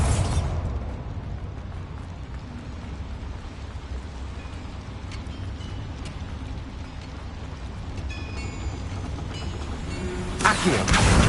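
The Bombarda blasting spell in the video game Hogwarts Legacy, heard as a dense, continuous rumbling crackle that ends in a sharp, loud burst.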